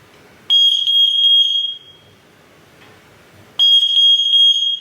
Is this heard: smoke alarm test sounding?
yes